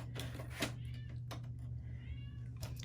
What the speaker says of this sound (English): So, excuse me, that's my cat.